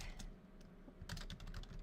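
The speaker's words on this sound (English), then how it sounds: "What happens with all the typing?" Computer keyboard typing in a quiet room, with irregular clusters of close key clicks and a denser burst of rapid keystrokes toward the end, no voices present.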